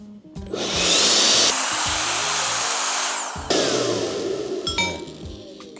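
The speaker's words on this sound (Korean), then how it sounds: "다음으로 미러키 선풍기. 얘도 바람이 3단계로 조절되는데 제일 세게 해서 한번 해보겠습니다." A Mirukey portable electric fan runs at its highest of three settings, giving a loud, steady rushing whoosh that surges for a few seconds, then drops to a rougher, lower roar with a few clinks.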